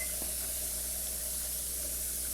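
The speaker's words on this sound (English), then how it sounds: "we need it to vent for 10 minutes" A pressure canner filled with turkey bone broth vents steam in a steady, continuous hiss, moderately loud and unbroken throughout.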